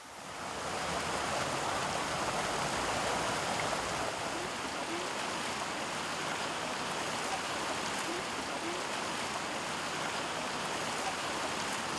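River stream flowing near a village at the foot of Rinjani, a steady broadband rushing wash of water that holds even throughout, moderately quiet and without voices.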